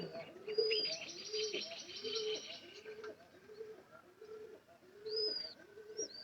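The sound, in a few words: pigeons cooing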